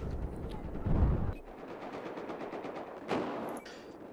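Bursts of rapid gunfire crackle in a Battlefield 4 game soundscape, a heavy burst early on, then another sharp volley near the end, with no talking.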